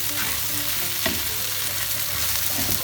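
Gnocchi and mushrooms browning in a pan while being stirred, a close continuous sizzle with one soft knock of the utensil partway through.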